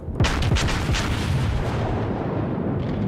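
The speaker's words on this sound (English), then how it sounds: "we'll see if we can't take this guy out with a good salvo right here" A low-tier US Navy battleship's main guns fire a salvo in World of Warships: several heavy booms in quick succession, loud and close, then a rolling rumble that fades slowly.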